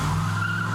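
A heavily turbocharged, tube-framed custom car resembling a Mad Max build skids with its tires squealing, a loud sustained screech over steady engine roar with no pause.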